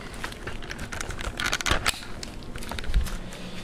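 Several sharp mechanical clicks and rattles as a camera is unlatched and detached from a tripod, close by, with a brief louder burst of handling noise in the middle.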